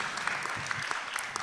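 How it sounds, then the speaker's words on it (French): Audience applause at an official speech event, a brief, fairly quiet patter of clapping from a seated crowd with scattered sharper individual claps. "on peut applaudir"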